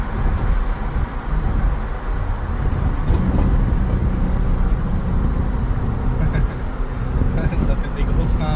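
An Infiniti G37x car driving on the road, a steady low engine and tyre rumble heard from inside the cabin, continuous and moderately loud, with a person talking over it.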